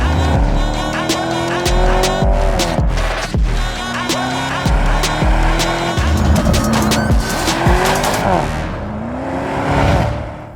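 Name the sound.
Audi RSQ8 Performance SUV driving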